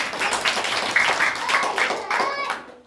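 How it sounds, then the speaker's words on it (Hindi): Children clap together at a school Republic Day event, a dense, continuous patter of many hands close by that fades out at the end, with young voices mixed into the applause. "ताली बजाते रहे।"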